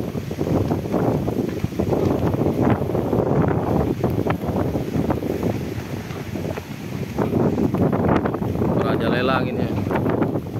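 Strong wind buffeting the microphone outdoors at a World War II monument site, a loud, continuous rumbling roar that barely lets up, with voices faintly mixed in.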